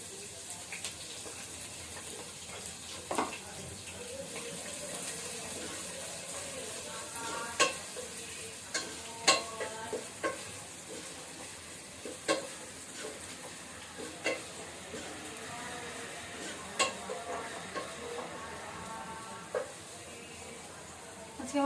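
Onions frying in oil with cardamom, cinnamon and cloves for Bengali beef kosha, a faint continuous sizzle with scattered clicks and stirring knocks of a spoon against the pot throughout.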